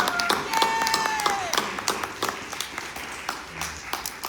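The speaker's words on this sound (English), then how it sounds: "let us applaud you" An audience at a college AAPI celebration applauds student organizers with moderate, scattered clapping that thins and fades over a few seconds, with a faint tone and some crowd noise underneath.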